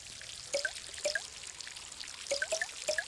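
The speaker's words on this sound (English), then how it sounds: "Make sure to water all of your tulips." Tulips being watered in the video game Garden Simulator, heard as a few short, close watery splashes and drips in quick irregular bursts over a quiet game background, with no talking.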